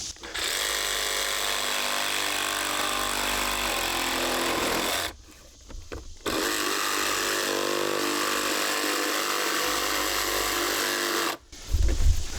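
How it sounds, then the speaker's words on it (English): A jigsaw cuts through an OSB siding panel in two long, loud, close buzzing runs separated by a brief pause, then starts again at the very end. "And now I can cut it out with my jigsaw."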